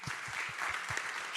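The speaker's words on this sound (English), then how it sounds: "So a big applause, please." Audience at a symposium applauding, a steady wash of clapping from a room full of people with a few louder nearby claps, brief and continuous.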